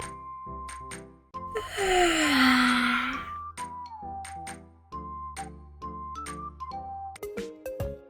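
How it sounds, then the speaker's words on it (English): A yawn, presented as a baby's yawn, sounds over a light musical backing: a single breathy, drawn-out exhalation with a falling pitch lasting about two seconds, surrounded by soft chimes and tinkling notes. "The baby yawned and then fell asleep."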